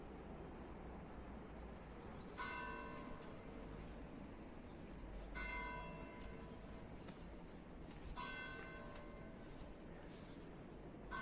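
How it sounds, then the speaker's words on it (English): A church bell rings out three times at spaced intervals, each stroke ringing on with long harmonic overtones, faint and distant over a low outdoor hum in the town of Sintra. "so the bell is giving us sign to continue before the rain catches us."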